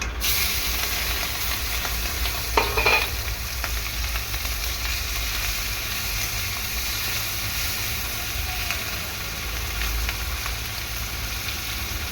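Shrimp frying in a pan for a fish curry with greens stalks, a steady soft sizzle and hiss running throughout, with a brief clatter near the start and no talking.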